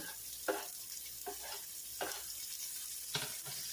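Chopped onion sizzles and fries in a hot pan during pot roast preparation, a steady quiet hiss broken by a few short stirring scrapes.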